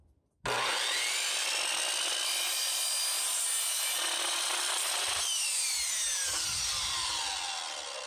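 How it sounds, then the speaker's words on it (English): A chop saw slicing through a piece of wood for a custom frame, starting abruptly after a brief quiet moment and whining loudly and steadily for several seconds, its pitch shifting partway through before tapering slightly at the end. "I'm going to take this over to the chop saw and go ahead and get it cut."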